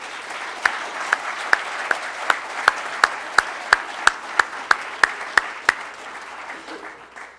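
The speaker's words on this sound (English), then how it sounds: "would you please give your round of applause and thank all these folks for their willingness to serve" Rotary Club meeting audience applauding under a loud, steady rhythmic clap that beats about every third of a second, then fades as the applause dies away.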